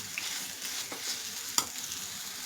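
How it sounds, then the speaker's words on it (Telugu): Mango and coconut chutney being stirred as it fries in a pan, with a soft, steady sizzle broken by a few light scrapes of the spoon and one sharper clack near the end. "ఒక 1 మినిట్ ఇది కలుపుతూ ఉండాలి, లేకపోతే అడుగంటేస్తుంది అన్నమాట"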